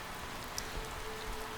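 Steady rain falling in the Disco Elysium video game, a soft even hiss throughout with no voices, quiet and continuous.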